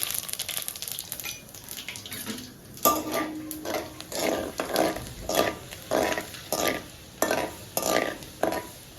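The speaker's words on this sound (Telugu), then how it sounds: "కడాయి వేడెక్కింది, ఆయిల్ వేసాను. ఇదిగోండి ఆవాలు, జీలకర్ర, ఇదిగోండి కొంచెము మినపప్పు" Mustard seeds, cumin and black gram lentils sizzling in hot oil in a kadai, a steady crackling fry broken by rhythmic scraping stirs and soft clinks of a spoon, close up with no voices.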